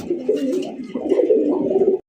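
Domestic pigeons of a red breed coo close by in a loft, a continuous run of low, throaty, rolling calls layered over one another, loud and unbroken until a sudden stop near the end.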